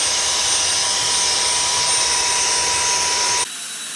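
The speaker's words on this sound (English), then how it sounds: "grab your vacuum cleaner, get a dust brush on the end of it," A vacuum cleaner fitted with a dust brush attachment runs steadily as it cleans a filter, a loud, constant whining roar that stops abruptly near the end.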